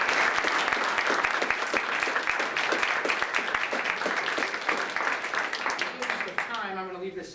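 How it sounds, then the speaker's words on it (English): A crowd at a live magic performance breaks into steady, continuous applause that holds strong throughout, with a voice emerging faintly as it begins to fade at the end. "Give these guys a round of applause."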